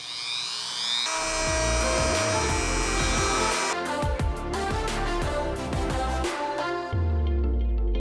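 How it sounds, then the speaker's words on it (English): A power drill whines steadily with loud grinding and rattling bursts as it bores through a carbon fiber diffuser piece for a Chevrolet Camaro, running continuously before cutting off near the end. "I'm gonna drill just the edge piece that I have left all the way through with this"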